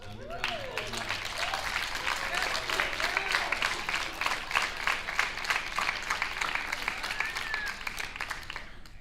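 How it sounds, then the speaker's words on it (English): Audience at a high school awards assembly breaks into steady applause, many hands clapping densely and continuously for about nine seconds, with a few voices and cheers rising early on. "So give a round of applause for that."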